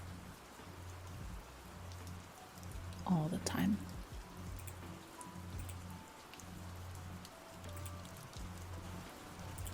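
Steady rain patters on a surface throughout, with a brief whispered voice and soft hushing sounds rising briefly above it near the start.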